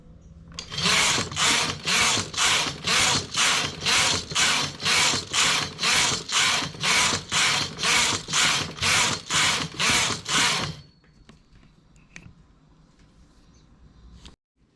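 A knitting machine carriage working a striped piece, its passes sounding as a steady run of about fifteen loud, evenly spaced mechanical clacks and whirs before it stops and leaves faint handling noises.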